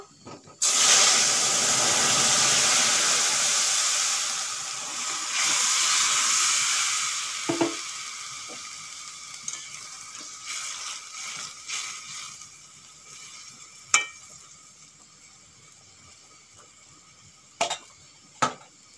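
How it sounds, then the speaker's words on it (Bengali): Hilsa fish curry with raw plantain is poured into hot tempering oil, setting off a loud, sustained hiss and sizzle that gradually dies down, followed by a few sharp pot knocks. "ফোড়ন হয়ে গেছে, এখন আমি তরকারি ঢেলে দেব।"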